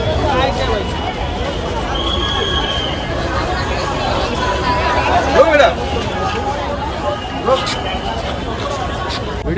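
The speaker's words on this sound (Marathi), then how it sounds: "तुम्ही गर्दी बघितली सिद्धिविनायकला केवढी गर्दी आहे." A large crowd fills Siddhivinayak temple on New Year's Day with a steady hubbub of overlapping voices and chatter, dense and continuous throughout.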